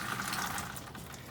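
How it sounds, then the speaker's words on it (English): Water pours steadily onto soil where lettuce has been sown, a continuous splashing wash, close and moderately loud, with no voices. "So I've just got some water here. I'm going to water it in."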